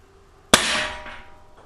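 A single sharp, loud crack from a Sig Sauer Spartan CO2 blowback BB pistol, close by, followed by a short ringing decay in otherwise quiet surroundings.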